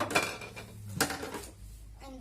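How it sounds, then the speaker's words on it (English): A plastic toy frying pan from a children's kitchen play set is handled, giving two sharp clattering knocks about a second apart and then quieter rustling. "This is the frying pan to cook."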